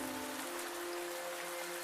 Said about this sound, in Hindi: जोरदार बारिश शुरू हो गई है